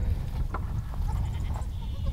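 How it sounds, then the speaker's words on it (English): A young Kiko goat kid gives a couple of short, thin bleats over a dense, steady low rumble of background noise on the farm. "He is the youngest goat."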